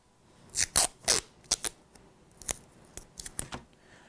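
Masking tape is pulled and torn from the roll to wrap around a laser pointer's switch: a series of sharp, crackling rips and short tearing bursts, close and clear, with no talking.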